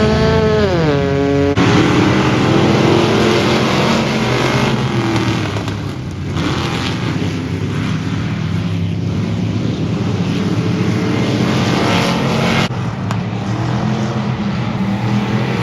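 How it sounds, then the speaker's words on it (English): Race cars circuit a race track, engines roaring loud and continuous with revving surges and passing cars throughout. "it was time to go racing."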